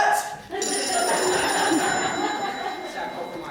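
A telephone rings with a steady electronic tone that holds from about half a second on, fairly loud and close, with voices in the background.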